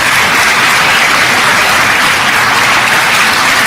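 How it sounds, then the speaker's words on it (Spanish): A church congregation gives a dense, loud round of applause, a continuous wash of many hands clapping together that holds steady throughout with no talking over it. "Denle un aplauso al Señor Jesucristo"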